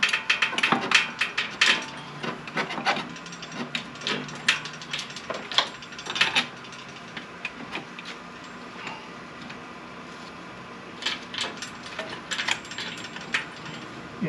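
Metal bolts are started by hand with a ratchet while a race car is built in a shop, giving a run of sharp metallic clicks and taps in irregular bursts, some close and loud, with quieter stretches between.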